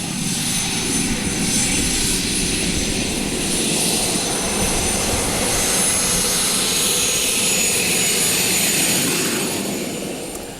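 A helicopter turbine engine fitted to a custom motorcycle runs with a loud, steady, high-pitched whine over a roaring rumble. The pitch holds nearly constant, then the sound eases slightly at the end, with no talking.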